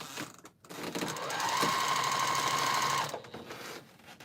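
A sewing machine stitches quilt seams in a steady whir that swells and holds for a couple of seconds, with a faint tone riding on it, then stops, leaving quiet room sound around the run.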